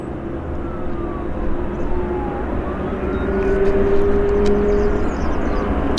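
An Air Canada A320 airliner rolls for takeoff at Vancouver airport, its engines a rising roar that swells in the middle and stays strong at a moderate distance.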